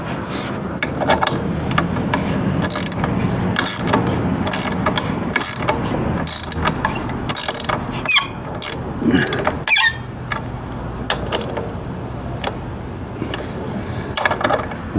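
A hand ratchet works on a GY6 scooter exhaust pipe clamp, giving repeated loud clicking pawl bursts in an uneven rhythm over about fifteen seconds, close up, with short pauses between strokes and no voice.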